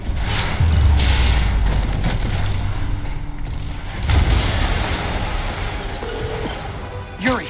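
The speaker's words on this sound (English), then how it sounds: "an explosion just..." Heavy booming blasts and crashing rumble fill a cutscene in Spider-Man Remastered. Loud low thuds swell twice and then fade, with debris and a short voice near the end.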